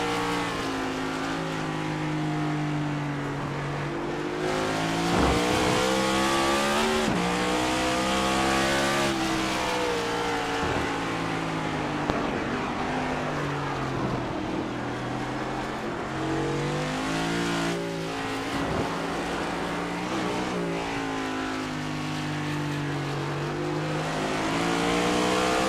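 Race cars in iRacing, including a number 30 Camaro, roar through a road-course lap at the Roval, with engines revving and sweeping up and down in pitch and occasional tire squeal. The cars stay loud and continuous and no one talks.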